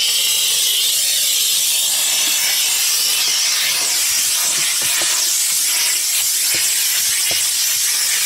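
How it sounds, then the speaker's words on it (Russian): A steam cleaner blows hot steam over fiberboard beehives to disinfect them after winter, a steady loud hiss running throughout with faint clicks and knocks underneath. "Отпариватель. В общем, он дает горячий пар."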